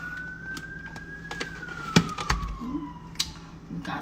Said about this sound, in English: We've got some sirens in the background.